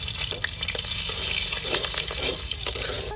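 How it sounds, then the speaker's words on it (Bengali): Nigella seeds and slit green chillies sizzle steadily in hot oil as a tempering for a mustard khoira hilsa fish curry, a dense close crackle running throughout with small pops scattered on top. "তেলের মধ্যে আমি আরেকটু তেল দিয়ে দেবো ফোড়নের জন্য দিয়ে দেবো কয়েকটা কালো জিরে চেরা কাঁচামরিচ"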